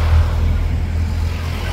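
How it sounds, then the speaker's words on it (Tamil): A road vehicle drives along steadily, its engine a loud, continuous low rumble with an even whir and no break in the sound. "வண்டி ரோட்ல வண்டி போகுது"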